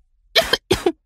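Two sharp, close coughs in quick succession, each with a double burst, separated by a brief silence.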